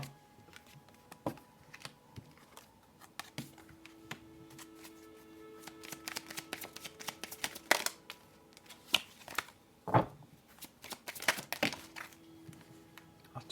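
Tarot cards being shuffled and handled, with soft riffling and sharp flicks that cluster into busier bursts toward the end, faint and close, with no talking.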